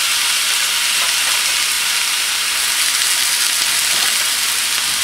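Two bread halves frying in a hot pan for a meat sandwich, giving a steady, loud, continuous sizzle with no talking throughout.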